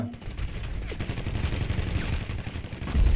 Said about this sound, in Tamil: அடுத்து ஷாட் கன் இது ஷாட் கன்